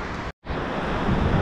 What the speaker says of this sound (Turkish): nehir sanki buranın içinde akıyor gibi.